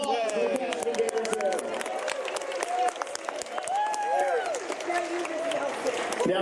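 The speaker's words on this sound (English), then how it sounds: "a round of applause for the cast of Invader" Fans at an Invader Zim convention panel applaud the cast, scattered sharp claps and crowd chatter with voices and cheers mixed in throughout.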